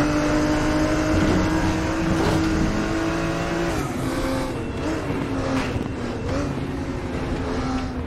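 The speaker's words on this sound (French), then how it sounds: "le flat 6 de cette Porsche est un moteur 3 litres de 485 chevaux" A 1976 Porsche 934 RSR Group 4 race car with a 3-litre, 485-horsepower flat-six screams continuously in the Raceroom racing game, a loud sustained engine howl rising and falling through gear changes with no talk over it.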